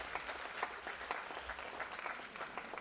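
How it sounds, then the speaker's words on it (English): Audience clapping at a Bharatanatyam arangetram dance recital, a fairly faint, distant wash of many hands applauding steadily, with no talking. "A huge round of applause for this great artist."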